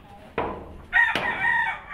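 A chicken gives a sharp cry, then breaks into a loud rooster-style crow with a rising, drawn-out call, close and clear against a quiet farmyard background with no talk.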